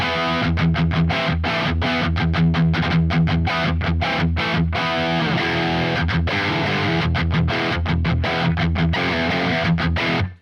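Electric guitar runs through a Quad Cortex with heavy distortion and room reverb, loud and continuous, with chugging rhythmic chords that cut off abruptly at the end.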